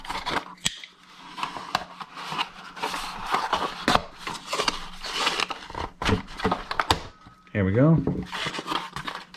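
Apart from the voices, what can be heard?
cutting drone packaging with scissors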